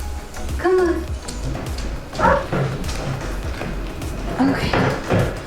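Mini dachshunds around a plant area outdoors, with a whimpering yip and several short barks mixed with someone talking close by and footsteps shuffling.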